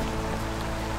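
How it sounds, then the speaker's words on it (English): Steady, dense rain falls on a lakeside carp fishing spot, a continuous close hiss of drops striking surfaces with no other sounds. "It's also just started to rain quite bad actually."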